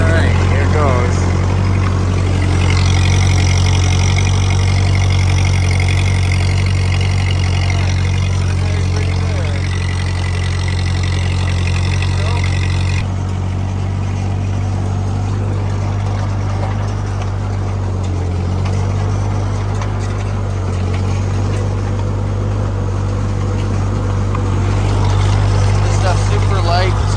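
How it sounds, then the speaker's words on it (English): An old Ford 8N tractor runs steadily while turning a hay rake, its engine a loud, continuous drone throughout, with a higher mechanical whine in the first half that then drops away. "this will turn on our rake, make sure it spins"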